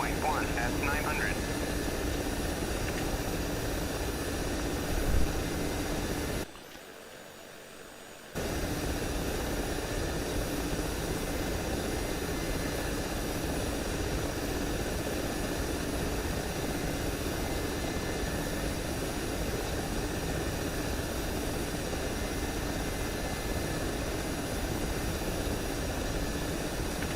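A heavy aircraft called Big Bertha in the DCS flight simulator flies fast, with a loud, steady engine and wind roar holding for the whole stretch apart from one brief dropout, and talk heard over it.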